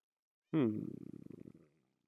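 A pet cat in Minecraft gives a short purr: a brief bright chirp, then about a second of fast, throbbing low rumble that fades out, fairly close and heard alone.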